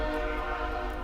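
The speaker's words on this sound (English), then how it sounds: "I hear a choo-choo train. That thing is loud." A loud train horn sounds from a train passing nearby in Miles City, Montana, a sustained, steady blast filling the whole clip.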